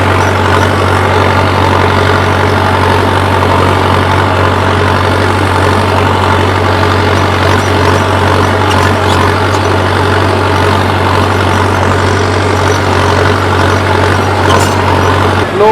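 A tractor engine running steadily while pulling a cultivator through a field, a loud continuous low drone with a constant hum and no pauses, with no voices.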